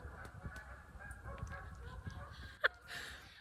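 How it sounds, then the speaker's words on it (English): Faint geese honk in the distance amid low woodland background noise, with one sharper louder honk standing out near the end. "You hear the geese?"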